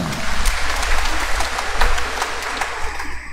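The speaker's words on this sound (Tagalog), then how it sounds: "Ubay-ubay di ay palakpak para nila." Congregation clapping at an Advent novena Mass, a short burst of dense applause from the churchgoers, fairly loud and continuous throughout.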